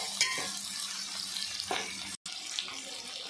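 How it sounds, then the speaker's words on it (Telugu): Boiled prawns frying in oil in a pan, giving a steady, watery hiss at moderate volume with a few soft clinks of stirring and a brief dropout near the middle. "ముందుగా ఉడకబెట్టుకున్న రొయ్యలు దాంట్లో వేసుకొని వేపుకుందాం ఫ్రెండ్స్."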